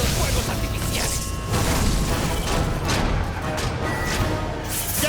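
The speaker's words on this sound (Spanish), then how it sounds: "¡Justo a tiempo para los fuegos artificiales!" Fireworks going off at a party in the Spider-Man PS4 video game, a dense run of loud booms and crackling bursts that continues throughout, mixed with game noise.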